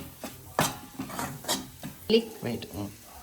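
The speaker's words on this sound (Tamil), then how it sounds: "நான் எப்போவுமே ஒரு ஒரு நிமிஷம் இதை லைட்டாக இப்படி வதக்கிப்பேன்" Masala is sautéed in oil in a pan for fish curry: a spoon scrapes and clinks against the metal in irregular strokes over a faint sizzle.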